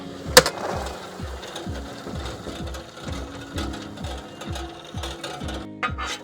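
A popcorn machine kettle is tipped to dump its freshly popped corn, giving a steady run of rhythmic ratcheting mechanical clicks. One sharper knock sounds near the start, with no talking.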